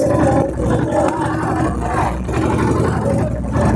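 Boat engine droning steadily on the Ganges at Varanasi near Dashashwamedh Ghat, a continuous loud rumbling roar with a vessel passing alongside and background crowd noise.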